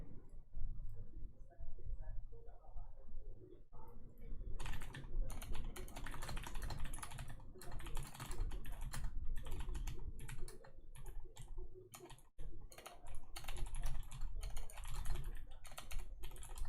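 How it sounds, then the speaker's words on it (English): Fast, continuous typing on a loud computer keyboard, with dense clattering keystrokes close to the microphone, starting quietly and growing heavier after a few seconds. "I'm getting those like dampeners for my keyboard so it's not so loud."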